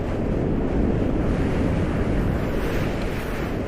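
Wind rushes loudly past the microphone during a fast downhill run, a dense continuous low roar and buffeting with no pauses.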